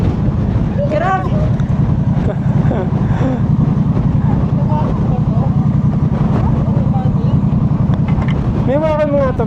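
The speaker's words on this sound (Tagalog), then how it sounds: "Ang lakas ng hangin." Strong gusting wind roars loudly into the microphone during a Kymco Xciting 400 scooter ride up a mountain, a constant buffeting rush over the engine with a few voices talking through it.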